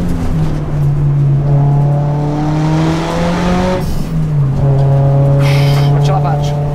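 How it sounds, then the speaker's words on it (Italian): A car engine revs hard nearby, its droning note holding and then rising, breaking off briefly and returning strongly. Someone talks over the loud engine. "questa è in assoluto la miglior macchina che io abbia mai guidato in vita mia"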